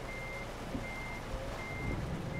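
A truck reverses in Euro Truck Simulator, its steady backing alarm beeping at an even pace over a low engine rumble, moderately loud and with no voices.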